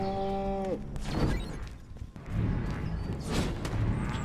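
Cows moo in the video game Destroy All Humans, several lowing calls in a row over a busy game backdrop of thumps and clatter, fairly close and loud.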